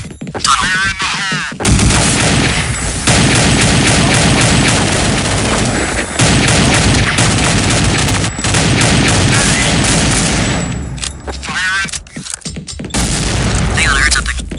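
In Counter-Strike: Condition Zero, loud, dense gunfire and booming blasts fill the scene, with a grenade explosion among the continuous roar of shots and battle noise.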